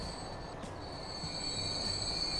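Trains running on a rail network in the video game Transport Fever: a steady rolling rumble with a thin, high, sustained wheel squeal over it, continuous throughout and with no talking.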